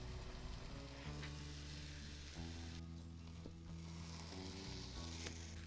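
Rolled Japanese tamagoyaki egg sears in a hot pan with a steady close sizzle and frying crackle, while the roll is shaped and turned with soft scraping; no talking.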